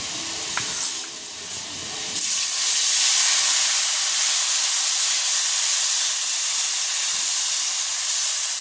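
Potatoes with dried chili, cumin and ginger paste hitting a hot pan, giving a loud, steady hiss that swells after a brief clatter and holds for several seconds, with no speech.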